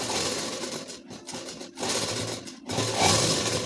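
Sewing machine running steadily while stitching the neckline of a ladies suit, a continuous whirring with a few brief pauses and restarts.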